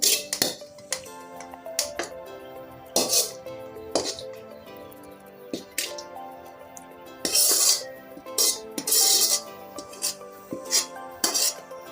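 A spoon scrapes and clinks against a pan while shrimp fried rice is stirred, loud metallic strokes in irregular bursts with brief pauses between them, close up and without talk.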